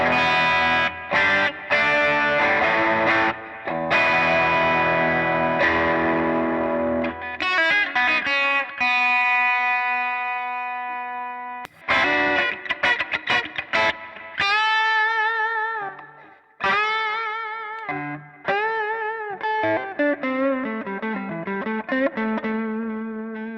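Glarry Tele-style electric guitar on the bridge pickup with slightly off tuning, loud sustained chords followed by many quick picked notes and bends, played alone with effects coloring the tone.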